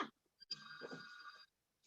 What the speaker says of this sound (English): my hotel phone is ringing